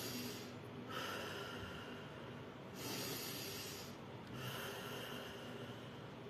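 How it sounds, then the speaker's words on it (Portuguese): A person demonstrates deep breathing, with two long, audible breaths drawn in and pushed out in a slow rhythm, close to the microphone and with no talking over them. "Essa respiração vai oxigenar a sua mente"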